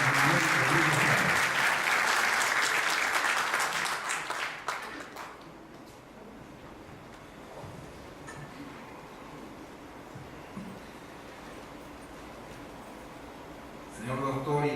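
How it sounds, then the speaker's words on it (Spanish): A lecture audience at Universidad Ricardo Palma in Peru gives loud, dense applause for an ambassador. The clapping fades after about five seconds into quiet room noise, then swells again briefly at the close. "Un fuerte aplauso"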